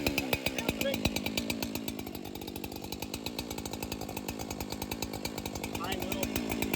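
A Husqvarna chainsaw that had not been started for a month or two idles outdoors on a mild day, its engine chugging in a steady, rapid, close pulse that runs throughout.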